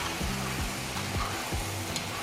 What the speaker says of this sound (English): Like almost a frying sound.